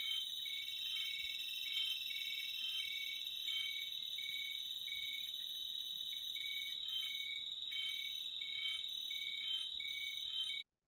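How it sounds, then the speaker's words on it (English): Analog electronic circuit sculpture producing lifelike insect chirping, a steady high-pitched cricket-like trill with pulsing repetitions that continues evenly and alone until it cuts off abruptly near the end. "analog electronics are like so incredibly good at making lifelike insect sounds and even bird sounds"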